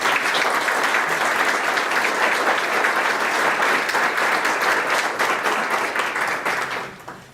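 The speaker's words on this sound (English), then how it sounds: "I just want to give them a quick round of applause" A crowd applauds at a graduation celebration, sustained dense clapping that stays loud and even for several seconds before tapering off quickly at the end.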